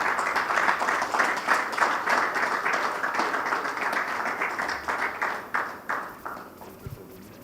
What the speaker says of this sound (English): welcome, please, with applause